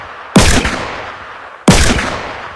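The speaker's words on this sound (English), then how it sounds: "They're actually shooting somebody. He's shooting at somebody." Gunfire in the video game Fortnite, two loud sharp shots about a second apart, each with a booming decaying tail, close and alone.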